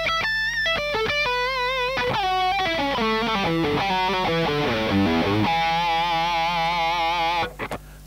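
An electric guitar with crunchy overdrive through a virtual speaker cabinet blending ribbon and 57 microphones plays a quick riff of single notes and chords, then lets a chord ring out before stopping.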